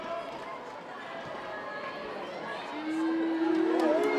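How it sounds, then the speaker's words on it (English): Netball crowd at an indoor school match shouts and cheers in a steady, dense roar that swells louder near the end, with a sharp whistle-like squeak. "You can hear the crowd putting the pressure on."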